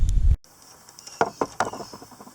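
Ratchet wrench working a 1/4 inch nut loose from the auto choke on a Toro Personal Pace Recycler 20333 self-propelled mower, a few close clicking bursts after a brief thud, with no talking.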